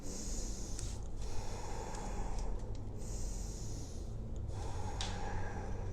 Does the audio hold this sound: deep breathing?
yes